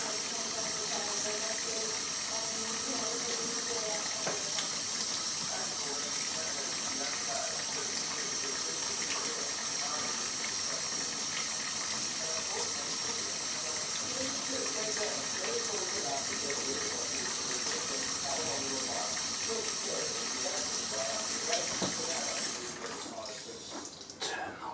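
Steady hissing stream of kitchen tap water running into a sink throughout while preparing squid tempura, with faint background kitchen noise, close and continuous before cutting off at the end.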